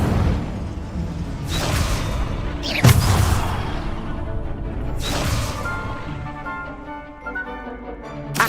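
Hogwarts Legacy's Incendio fire spell blasts out as several loud booming whooshes in a row, each burst flaring and then fading, with crackling fire between them.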